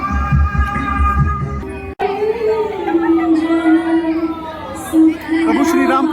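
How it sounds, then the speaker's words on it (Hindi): A large crowd of devotees murmurs and chatters at a golden jubilee Durga Puja festival in Arunachal Pradesh, beneath a sustained droning tone. A sharp click cuts in early and voices speak over the throng. "श्रद्धालुओं की भारी भीड़"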